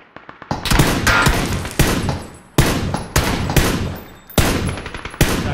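Gunfire in the battle royale game PUBG: several loud bursts of rapid shots, each decaying into a ringing tail, spread across the clip with short gaps between volleys and no talking.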